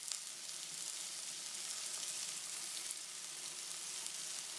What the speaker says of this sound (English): stir fry some sugar.